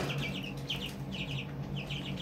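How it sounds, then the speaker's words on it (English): Chickens loose inside a house give a string of soft, quick clucks in short bursts, close by, over a steady low indoor hum. "Chickens are loose in my house."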